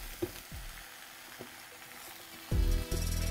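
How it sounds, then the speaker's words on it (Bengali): Amla pickle being stirred in a pan as jaggery melts, with a soft steady sizzle, faint scraping strokes and a louder burst of frying near the end, no voices. "এবার এটাকে ভালো করে মিশিয়ে নিন যতক্ষণ না গুড়টা পারফেক্টলি গলে যাচ্ছে।"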